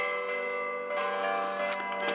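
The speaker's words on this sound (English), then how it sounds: "and the bells are ringing" Church bells in Malta ring steadily with rich overlapping tones, a continuous resonant peal that swells slightly toward the end, heard at moderate distance.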